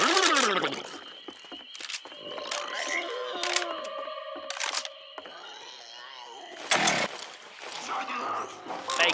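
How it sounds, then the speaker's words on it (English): Left 4 Dead 2 chainsaw weapon revving and buzzing in loud, choppy bursts amid game effects, with players talking over it. "Chainsaw here."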